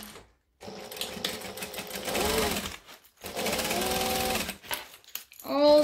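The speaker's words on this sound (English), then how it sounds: "So we're going to stitch this whole side." A sewing machine stitches along the whole side of a fabric lunch bag, running in steady mechanical bursts separated by brief pauses, close and fairly loud.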